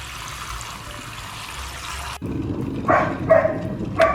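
Water running from a tap as ingredients for a DIY hair mask and rinse are washed, a steady flow that cuts off and becomes louder splashing with a few sharp bursts.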